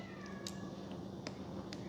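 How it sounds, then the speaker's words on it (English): Short cat meows from a nearby cat in a workshop, three brief calls spaced across a steady background hum with no talking. "There's another cat."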